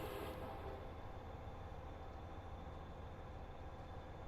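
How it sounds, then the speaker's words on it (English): Train number 8285 passing on the Cajon Pass in California, a faint continuous rumble and clatter of rail cars heard from a distance without talk. "So that's a train coming, I believe."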